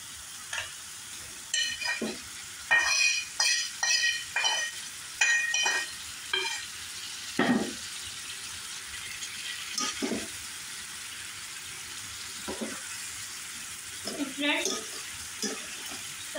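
A curry made with ground spice paste is sautéed in a pan, with scraping spatula strokes over a soft sizzle. The strokes come in bursts, then thin out to occasional scrapes.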